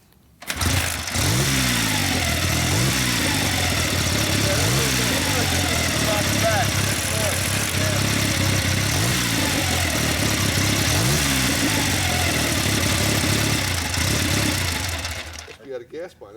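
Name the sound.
1927 Cleveland 4-45 motorcycle engine kick-started and running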